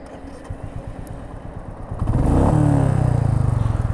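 A Royal Enfield Meteor 350 motorcycle cranks with a quick rattling starter, then catches and settles into a loud, close, steady thumping idle.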